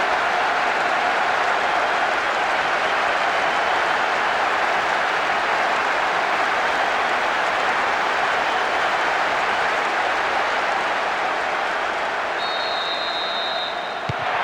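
Football fans in a packed stadium roar and applaud after an equaliser levels a World Cup group match at 1-1, a dense, loud, sustained crowd wash with no break, a faint whistle-like tone near the end.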